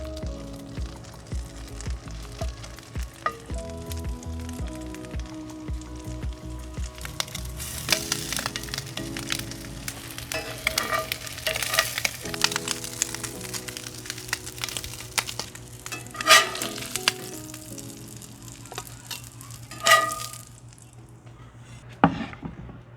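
Crab cakes fry in a cast iron pan on a grill, giving a steady sizzle with crackles and a few louder pops, while background music plays underneath.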